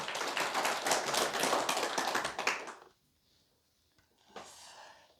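Congregation clapping in a church service, a dense burst of many hands for about three seconds that cuts off abruptly, followed by quiet room tone and a brief faint stir.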